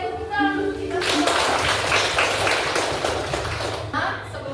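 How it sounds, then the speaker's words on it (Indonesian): Children in a classroom clapping their hands together, a dense burst of close clapping lasting a few seconds after a brief voice, fading out at the end. "tepuk tangan untuk kita semua"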